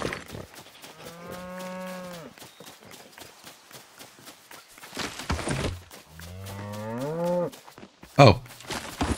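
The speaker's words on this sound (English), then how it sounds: "I hear a cow. I don't see one. Sounds really close." A cow in Lego Fortnite lets out two long, drawn-out moos a few seconds apart, loud and close, with crisp game footsteps and clicks around them and no talking.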